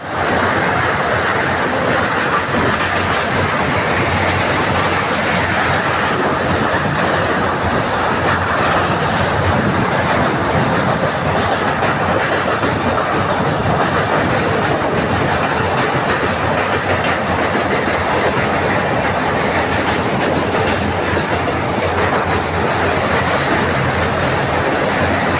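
A train running on rails between Koraput and Bhubaneswar, heard from inside as a loud, continuous rumble with a rhythmic clickety-clack of wheels and occasional faint squeals throughout.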